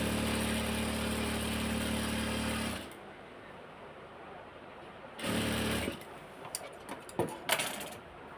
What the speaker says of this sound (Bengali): দুই পাশে সেলাই করে নিচ্ছি।